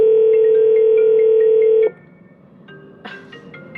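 A telephone rings loudly and steadily for nearly two seconds as a continuous electronic tone, then cuts off abruptly, leaving quiet room noise with a few faint knocks and rustles.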